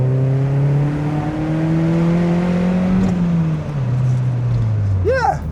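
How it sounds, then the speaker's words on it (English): A Mazda MX5 with a loud, antisocial aftermarket exhaust drones steadily while driving on a potholed road, the engine note rising and falling through gear changes and ending in a sharp rev burst. "let's have a little listen to the engine"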